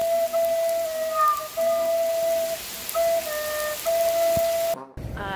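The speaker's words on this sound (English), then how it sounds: "Oh, it just started raining out a little bit." Light rain falling outdoors makes a steady, soft hiss throughout, with faint tonal whistling or birdsong layered over it, then a brief rustle near the end.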